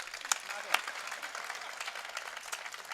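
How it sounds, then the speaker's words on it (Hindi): Audience clapping at a Hindi kavi sammelan poetry gathering in Chhindwara, a faint, distant patter of many hands with a couple of sharper claps standing out early on. "एक बार तालियां बजाकर मुझे बताएं"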